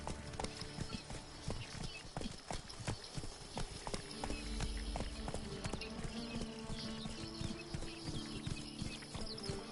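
Roach, Geralt's horse in The Witcher 3, gallops with a steady, rapid drumming of hoofbeats, loud and close, over a continuous bed of game ambience and occasional snorts.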